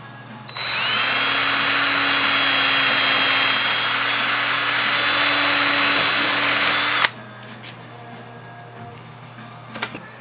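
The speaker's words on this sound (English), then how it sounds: "I'm now working on getting the front handle drilled in here" A power drill runs steadily for about six seconds, loud and close, while drilling in the front handle on a rebuilt 1930s sled, then stops abruptly, leaving a quiet room tone with a faint knock near the end.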